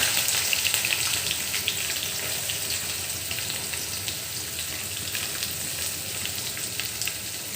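Onions hit a pan of frying beef tripe, giving a dense, even crackling sizzle with fine spitting pops that holds steady and close throughout.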